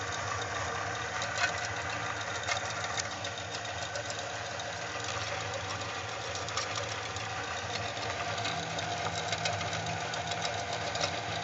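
A small rock tumbler with a loaded barrel rolls steadily, giving a continuous rumbling, rattling mechanical drone with faint irregular clicks, even in level and fairly close throughout.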